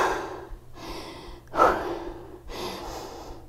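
Breath during a HIIT workout: a few soft, rhythmic breaths with one sharper, louder exhale in the middle, close and fairly quiet.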